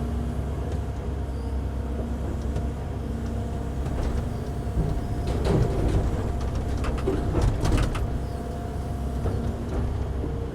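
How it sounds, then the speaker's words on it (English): An excavator working in gravel in an ancient river bed, its engine a steady low rumble close by, with scraping and rattling of stones rising in the middle, and no talking. "you have to feel the excavator"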